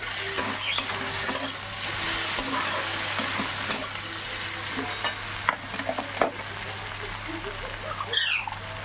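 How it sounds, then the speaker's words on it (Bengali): Chili, coriander and cumin powder stirred into taro, potato and eggplant in a pan, a steady low sizzle with scattered spatula scrapes and taps, one sharper clink near the end. "লঙ্কার গুঁড়ো এক চামচ মতো ধনের গুঁড়ো এক চামচ মতো জিরের গুঁড়ো দিলাম দিয়ে আবারও নাড়াচাড়া করে নেব"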